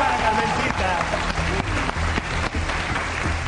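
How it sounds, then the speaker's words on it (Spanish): A studio audience applauds Carmencita on a Peruvian health talk show, steady dense clapping filling the room with voices and music-like tones running underneath. "Un aplauso, por favor, para Carmencita."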